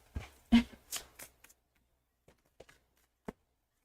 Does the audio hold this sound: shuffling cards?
yes